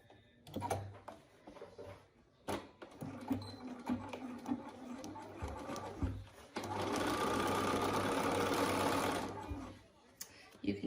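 A sewing machine stitching a seam on board shorts runs in a steady whirring burst for a few seconds, preceded by scattered clicks and fabric handling.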